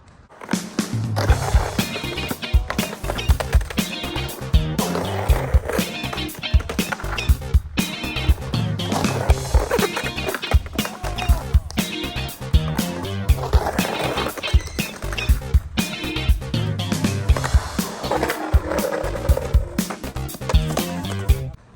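Skateboard wheels rolling and clacking through repeated nose pivot fakie rocks and lipslide attempts on a ramp, with steady rumbling roll broken by sharp truck and board impacts throughout, loud and close.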